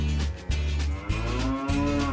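A cow moos in deep, drawn-out lowing, several sustained calls in quick succession, loud and close with a tonal, droning quality.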